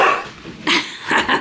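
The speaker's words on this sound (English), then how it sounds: "it's neighbor dog" A neighbor's dog barks close by in a few short, sharp bursts with brief whiny yips between them and no talking.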